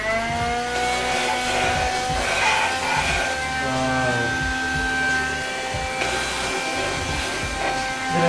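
A SilverCrest portable vacuum cleaner running close by, its motor whining with layered tones that waver slightly in pitch, set over a rough airy rush that stays loud and continuous.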